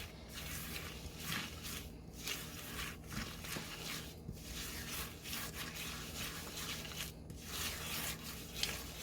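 Spatula working carrot cake bar batter around a mixing bowl, a quiet continuous rubbing and scraping with rhythmic strokes roughly every two seconds, close and soft with no talking.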